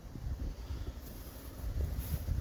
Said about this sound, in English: Wind blowing and cloudy.